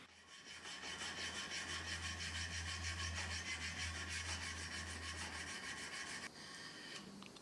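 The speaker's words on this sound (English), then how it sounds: "Next up is to clean up the blade and hand sand it to the preferred finish." Steel knife blade being hand sanded to 600 grit, a steady close rasping rub with even back-and-forth strokes that runs for about six seconds before easing off, no voices.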